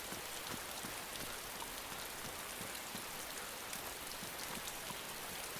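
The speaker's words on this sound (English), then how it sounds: "This rain's actually really cool. It sounds pretty decent." Rain in the survival video game DayZ falls as a steady, even patter and hiss that stays soft and constant throughout, with no talking.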